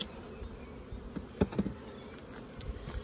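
Honey bees buzzing at an opened hive during a beekeeping inspection, a steady low hum with a few brief louder passes close to the microphone, no talk.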